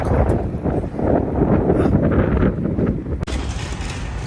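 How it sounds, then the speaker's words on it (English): Cold winter wind outdoors in upstate New York beside a shop, heard as a heavy, steady rumble of gusts buffeting the microphone and loud throughout, with a brief clatter near the end. "The wind, oh gosh, I hate it."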